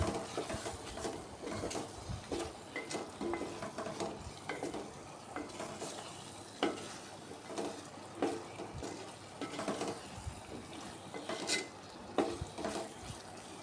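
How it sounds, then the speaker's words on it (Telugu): Chili powder and tomato pulp frying in oil for a capsicum tomato curry, giving a continuous gentle sizzle with frequent stirring scrapes and light clinks of a spoon on the pan, fairly quiet and close. "కారం వేసాక కొంచెం ఆయిల్లో ఫ్రై అవనివ్వాలండి పచ్చివాసన రాకుండా ఉంటుంది"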